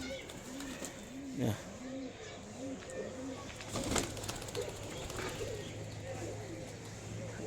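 White Giribaz pigeons, a male and a female just released, give repeated soft rolling coos in a steady series, with a brief flutter of wings and faint background noise.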